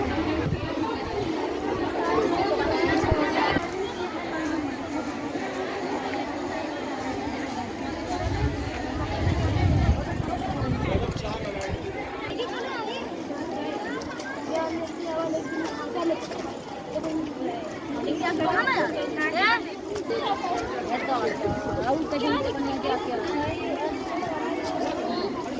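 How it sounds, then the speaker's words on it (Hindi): A crowd of students gathers outside a girls' college in Rewa, with dense chatter and babble throughout and a reporter speaking over the noise. "छात्रों की भीड़ लगी हुई है"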